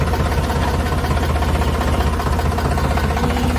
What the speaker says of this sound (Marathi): निघालो आता घरी ट्रॅक्टरवर बसून